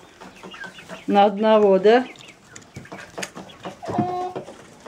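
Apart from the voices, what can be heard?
chickens clucking in a poultry yard flock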